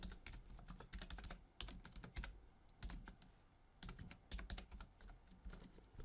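Someone types a newspaper headline on a computer keyboard, quick bursts of soft key clicks with short pauses between words, close but quiet.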